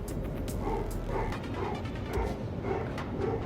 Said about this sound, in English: Oh, that was the ship's dog.